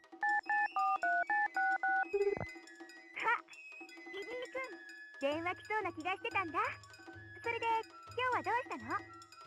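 A phone in the video game Tokimeki Memorial 2 gives a quick run of regular electronic beeping tones, then other bright game sounds and chirpy voice-like blips follow, with talking mixed in.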